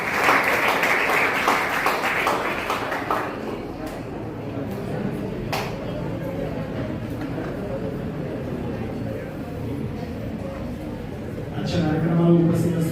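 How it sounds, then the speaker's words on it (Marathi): Loud applause from an audience at a school event, a dense burst of clapping at the start that fades into crowd murmur, then swells again briefly near the end. "जोरदार टाळ्या"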